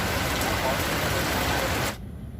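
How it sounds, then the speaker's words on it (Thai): Heavy rain pours in a dense, loud, even hiss at a riverside fishing spot on the Chao Phraya River during a storm, then cuts sharply to a quieter background near the end. "ไม่รู้ว่าฝนจะหยุดตกตอนไหนนะครับท่านผู้ชม"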